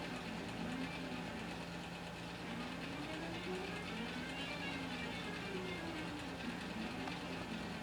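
A 1953 Singer 15-91 sewing machine stitches steadily at slow speed, a continuous mechanical whir and hum with a gently rising and falling tone, moderately quiet and close, with no voices over it.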